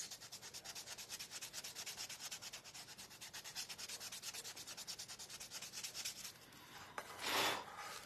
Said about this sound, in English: I'm gonna sand in sections.